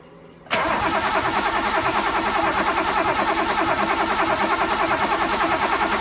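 An engine catches abruptly after a fuel pump install and settles into a steady, loud, even running note that holds for the rest of the clip without talk.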